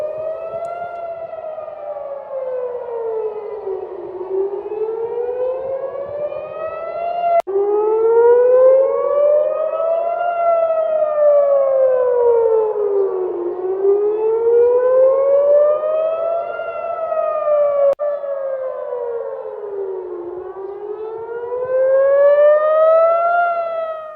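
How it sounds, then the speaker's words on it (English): Civil defense air raid sirens wail over West Jerusalem, a loud rising-and-falling tone cycling steadily for the whole stretch, with no voices over it. "Sirens there over Jerusalem, West Jerusalem"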